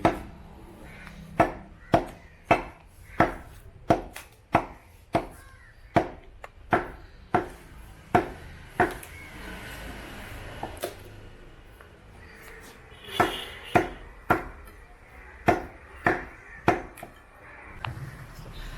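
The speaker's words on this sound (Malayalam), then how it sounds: "കറിക്കും ഫ്രൈക്കുള്ള കട്ടിങ്ങാണ് ചെയ്യുന്നുണ്ട്" A butcher chopping beef for curry and fry cuts at the Puthiyangadi meat market in Calicut, with steady rhythmic cleaver blows in two runs separated by a short pause, crisp and close over faint market background.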